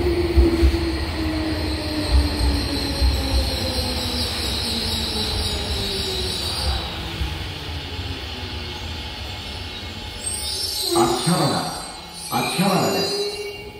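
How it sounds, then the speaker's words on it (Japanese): A local train on the Tokyo Metro Hibiya Line, bound for Tobu-Dobutsu-Koen via the Tobu Skytree Line, pulls into track 2 at Akihabara station, its rumble steady throughout with brief squealing wheel and brake sounds near the end, a platform announcement running underneath. "The local train bound for 東武動物公園 is arriving at track 2."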